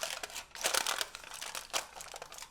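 Aluminium foil crinkles and crumples as it is wrapped around a dish for breakfast sausage in a Ninja Combi, a few close bursts of crackling rustle in quick succession.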